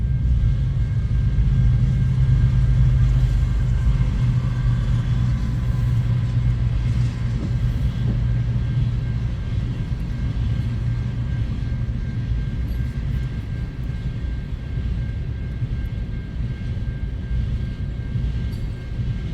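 A CN freight train rolls past at Ladysmith, Wisconsin, in late December, with an ES44 distributed power locomotive mid-train: a loud, continuous low rumble and drone that holds steady for the whole stretch, with no voices.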